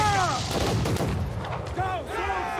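Ship cannons fire in a naval battle in Assassin's Creed Black Flag, with heavy booming shots and clatter beneath shouted crew commands.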